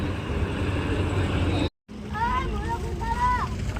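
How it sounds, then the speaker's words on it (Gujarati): A tractor accompanying a walking pilgrim group headed to Chotila idles with a steady low engine rumble, briefly cut off, then continuing as voices talk over it nearby. "આ છે અમારા સંઘનું ટ્રેક્ટર"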